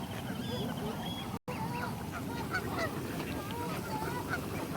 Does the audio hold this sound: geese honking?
yes